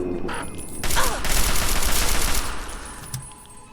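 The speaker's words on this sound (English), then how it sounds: "So I'm going to shoot you right in the face." Gunfire in the video game Fallout 3 aimed at a Mirelurk, a clustered burst of shots over a couple of seconds with a lighter shot near the end.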